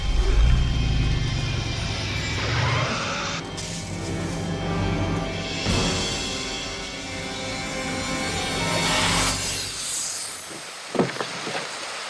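A DeLorean car from Back to the Future revs its engine, a loud sustained roar with shifting pitch and rumbling bursts, fading slightly toward the end with a brief clatter near the finish.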